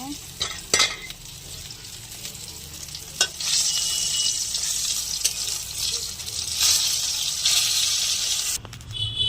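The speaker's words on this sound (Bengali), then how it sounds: "এবার আমি বাকি মাছগুলো ভেজে নেব" Fish pieces fry in a pot, a loud close crackling sizzle broken by a few sharp clatters and scrapes of handling, with no talk.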